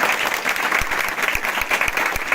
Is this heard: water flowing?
no